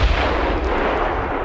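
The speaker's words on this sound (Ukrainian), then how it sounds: "Ага, чужа арта." Enemy artillery booms in the video game Total Conflict: Resistance, a heavy, rumbling blast with a deep low end that fills the whole moment and decays slowly, loud and without talk.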